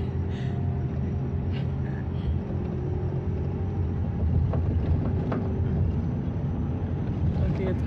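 A boat engine opening up on the water near Cairo: a steady low rumble under wind buffeting the microphone, with faint muffled voices in the background.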